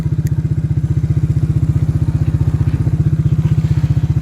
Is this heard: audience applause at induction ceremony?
no